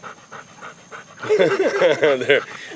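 A dog pants rhythmically and close by, quick steady breaths that continue as a person begins talking loudly over them.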